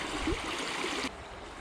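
Flowing trout stream, a soft, steady rush and trickle of water heard close by, faint and continuous, with a slight drop in level near the end.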